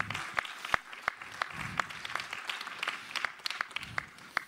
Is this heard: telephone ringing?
no